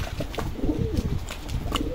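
Pet pigeons from breeder stock coo softly and repeatedly, close by, low throaty rolling calls overlapping in a relaxed rhythm with a few faint chirps above.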